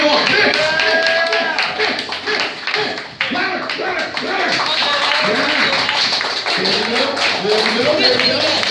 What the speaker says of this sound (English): I want you guys to cheer on. Everyone clap along.